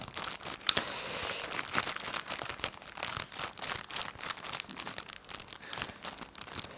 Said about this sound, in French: Surtout pour le bruit du fameux plastique.